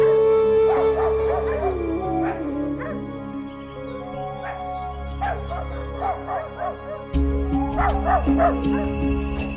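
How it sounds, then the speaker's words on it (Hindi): Several dogs howling together in a drama scene, long wavering overlapping howls with whimpering yips, steady and fairly loud over a low droning background, without speech. "ये सारे कुत्ते एक साथ रो क्यों रहे हैं?"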